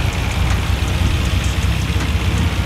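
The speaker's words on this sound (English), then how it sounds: "That stock exhaust, right?" A Dodge Viper sports car engine with stock exhaust idling with a steady low rumble and even hum, loud and close, with no voices.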